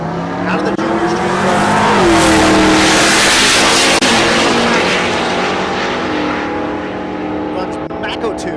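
Hunter Hay's GMC Sierra truck launching down the left lane of a dragstrip, a loud, close engine roar that rises through the gears and then fades as the truck pulls away. A tire squeal is briefly audible, and an announcer talks over it.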